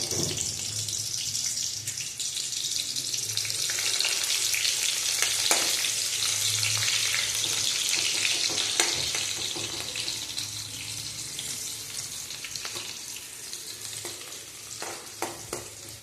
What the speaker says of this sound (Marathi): कांदा चांगला परतून घ्यायचा आहे आपल्याला इथे